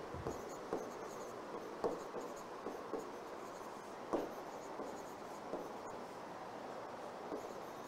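Pen or pencil scratching across paper as a sentence is written by hand during an English grammar lesson, a steady soft scraping with brief stroke accents, faint and close, with no talk.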